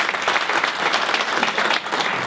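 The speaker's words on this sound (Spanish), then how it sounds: "El aplauso para recibirlo" Audience applause welcoming a speaker onto a panel at a conference, dense steady clapping filling the whole short stretch at close range with no talk over it.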